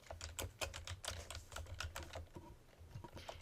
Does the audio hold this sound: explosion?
no